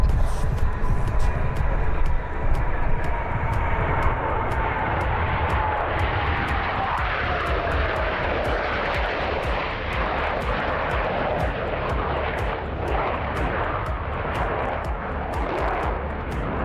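Video game fighter jets in PTFS roar steadily during an airshow aileron roll, a loud continuous engine wash with a slowly falling tone and faint rapid clicks, with no talk.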